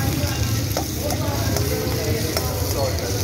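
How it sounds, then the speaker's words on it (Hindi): Chopped onions sizzle and fry steadily in hot oil in a pan for a dal mash dish, a constant crackling hiss with occasional faint stirring clicks. "ये हमने ऑयल डाल दिया है, हम इसमें प्याज डालेंगे, इसको ब्राउन करेंगे"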